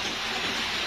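Rain falls steadily on a village chicken farm, a dense, even hiss with no pauses for the whole short moment.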